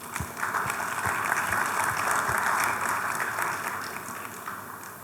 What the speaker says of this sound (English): Can we have some claps for those?